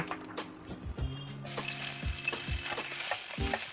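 Nigella seeds and green chillies sizzle in oil left over from frying fish, a steady crackle broken by several sharp clanks and scrapes of a spoon stirring in the pan.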